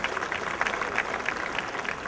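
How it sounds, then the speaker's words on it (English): An Independence Day celebration crowd claps for the event sponsors, a brief, steady patter of applause sustained evenly at moderate loudness. "please give a big applause to all these sponsors"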